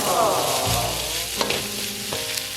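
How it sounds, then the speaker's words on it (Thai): Meatballs stir-fried in a hot wok give a loud, continuous sizzle and crackle up close, with a few sharp scraping knocks from the spatula against the pan and no voices. "หลังจากนั้นก็ใส่ลูกชิ้นลงไปค่ะ ให้ลูกชิ้นเนี่ยมันมีความไหม้นิด ๆ ของกระทะจะได้หอมกลิ่นกระทะนะคะ"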